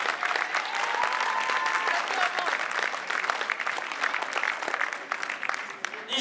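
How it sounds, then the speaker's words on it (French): Audience applause fills a boxing champions evening in a town festival hall, a steady dense crowd clapping throughout with a faint tonal sweep and scattered voices beneath it. "Applaudissements, s'il vous plaît."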